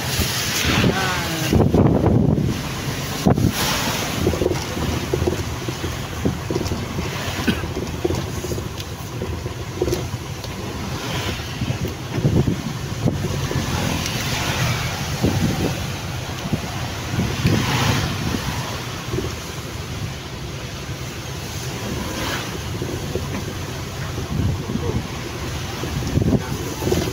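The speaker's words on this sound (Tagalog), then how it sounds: "Lakas dito ng hangin, sila nagliliparan ng mga dahon." Strong wind outdoors blowing leaves and litter toward the road, a loud, continuous roar that buffets the microphone with heavy rumble for the whole stretch.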